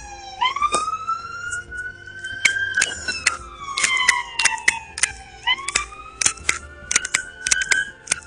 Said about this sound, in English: I'm gonna wait for this ambulance to go by.